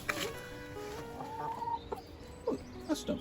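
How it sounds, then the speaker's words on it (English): Chickens cluck in short, scattered bursts at a middling distance, with some higher calls among them over quiet background noise. No voices. "Lovely chickens."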